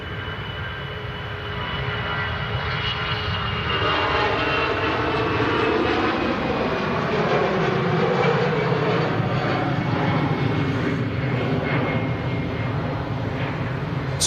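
An aircraft departs Manchester Airport with a loud, sustained engine roar that swells after the first couple of seconds and holds steady, its tone slowly shifting as it climbs away.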